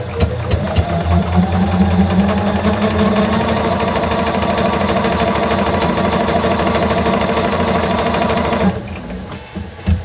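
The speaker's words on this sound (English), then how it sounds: "we are going to stitch on the line" A sewing machine stitches a quilt block along a marked line, its rapid steady mechanical hum and needle clatter running loud and close for about eight seconds before stopping abruptly.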